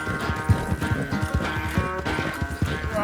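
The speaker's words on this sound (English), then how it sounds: "This horse really isn't that fast." A horse galloping in the video game Red Dead Redemption 2, with steady rhythmic hoofbeats throughout under game music and ambience, no talk.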